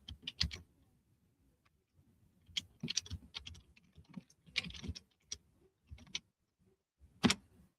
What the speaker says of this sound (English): I'm having difficulty typing for some reason tonight.